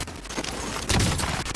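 Hipfire from a weapon in the video game Warzone comes as a quick, loud burst of rapid gunshots in a busy game mix, lasting just over a second.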